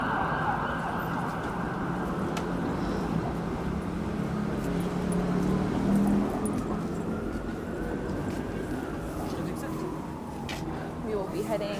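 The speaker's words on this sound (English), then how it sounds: "I hear an ambulance coming." An ambulance siren wails along Dundas Street West in Toronto on a Saturday evening, a sustained rising and falling tone that swells as it approaches over steady street traffic, with people talking throughout.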